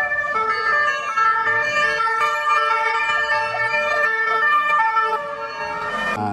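A toy fire truck siren wails steadily and loudly for the whole stretch, a bright electronic tone repeating without pause, close to the listener and with no voices over it.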